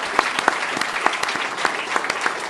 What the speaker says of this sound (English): That itself deserves a round of applause.